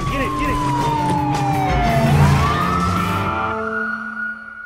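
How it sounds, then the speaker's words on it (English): Police sirens wail loud and close in a getaway chase scene from the film Baby Driver, a sweeping tone gliding down and back up over a rumbling vehicle engine, then fading slightly at the end. "police sirens break any semblance of calm"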